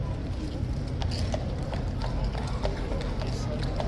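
A Horse Guards trooper's horse is marched steadily forward into a crowd, its hooves clip-clopping in a continuous rhythm under loud crowd noise and talking.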